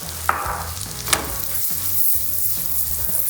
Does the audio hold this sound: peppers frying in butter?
yes